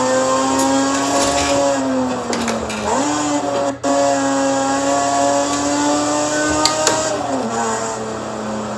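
A Toyota GR Supra engine revs nearby, its pitch rising and falling through several blips with a brief cut partway through, loud against traffic and background noise.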